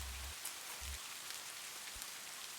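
Rain falls at night on a porch as a steady, soft hiss, with a few dull low thumps near the start and a single one close to the end.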